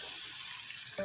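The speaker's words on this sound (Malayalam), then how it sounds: "3-ാം പാല് ഒഴിച്ചു കൊടുക്കുക." The third, thinnest extract of coconut milk is poured into a pan for a sweet potato stew, a soft continuous liquid trickle that ends with a short splash.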